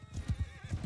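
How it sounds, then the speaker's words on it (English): Horse hooves clip-clopping in Mount and Blade Bannerlord, a quick regular series of thuds close by, about eight beats in under a second, with no talk. "there's one horse over here"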